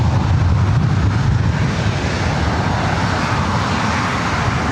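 A SkyWest airliner roars down runway 24 Right at Los Angeles International Airport on its takeoff run, a loud, steady broadband engine rumble that stays constant throughout.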